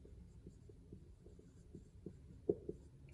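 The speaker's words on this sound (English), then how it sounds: "I'll write both words down." A pen or pencil writes words on paper, producing soft, close scratching strokes and small taps, faint and irregular over a quiet room.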